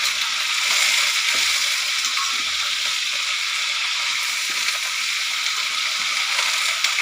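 Food fries in hot oil in a pan while being stirred, giving a loud, steady, close sizzle that runs throughout with soft scraping of the spoon.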